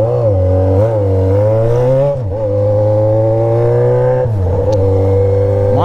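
Yamaha XJ6 motorcycle with an Atalla straight-pipe exhaust revving loud and close, holding a steady high drone, dipping briefly twice, then climbing again, with no talk.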